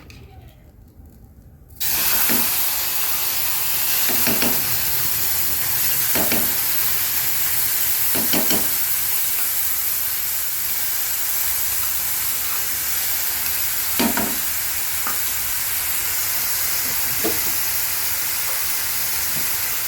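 Yogurt hits hot oil in a kadai while doi begun is cooked. After a short quiet start, a loud, continuous close sizzle breaks out and carries on, spotted with occasional sharp crackles and pops.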